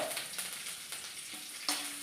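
Curry leaves crackling in hot oil in a pan, a short burst of sizzle with a couple of spatula scrapes and clicks as they are stirred.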